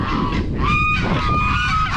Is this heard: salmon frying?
no